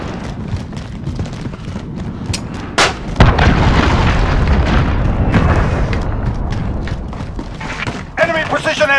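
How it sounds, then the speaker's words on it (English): Explosive booms from an enemy cruise missile strike in the Modern Warfare video game, a sharp blast near three seconds followed by sustained rumbling and debris, with radio-style voice callouts over it. "Enemy cruise missile incoming!"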